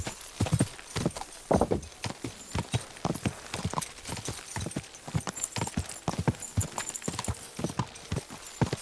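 Steady clip-clop of horse hooves in the video game Kingdom Come Deliverance II, a fast rhythmic trot of sharp knocks close by, continuing throughout without talk.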